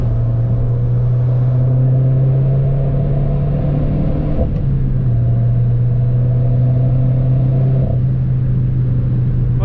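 A Peugeot 208 GTi fitted with an Akrapovic exhaust drones steadily and loudly from inside the car while revving through the gears, with a brief dip around each shift and no talking.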